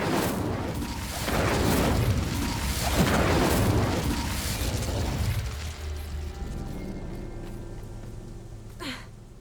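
A fire spell cast in the Hogwarts Legacy video game, heard as a series of loud booming, roaring bursts over the first several seconds, fading to a low rumble and ending with a short whoosh.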